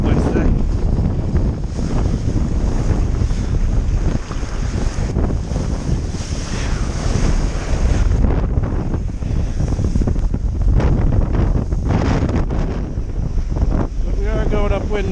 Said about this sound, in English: Wind is just all over the place today.